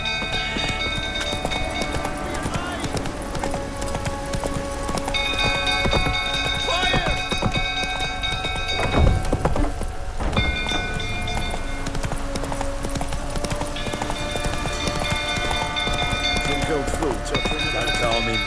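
Roach the horse gallops in The Witcher 3, steady clip-clop hoofbeats running under a loud game soundscape with sustained tonal music and voices, plus a heavy thud midway.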